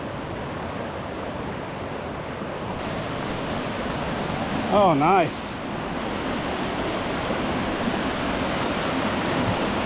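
Whitaker Creek in the Upper Buffalo Wilderness Area flows with a steady, even rush of water throughout. A voice briefly speaks midway over the constant wash.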